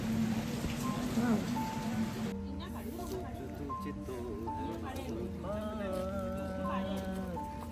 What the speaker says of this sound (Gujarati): ત્યાં ફરી વરસાદ આવી ગયો હતો